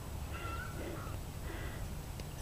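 A cat meows softly a couple of times near a fence under repair, faint drawn-out cries over a low steady background hum.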